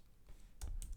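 A command is typed on a computer keyboard: a few quiet, close keystrokes, with two sharper clicks near the end, in an otherwise quiet room.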